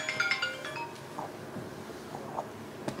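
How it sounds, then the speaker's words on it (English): A phone rings indoors, a bright repeating electronic ringtone in short pulses that is loud at first and then fades, with faint room noise and small clinks around it and no talking. "Who's calling your phone?"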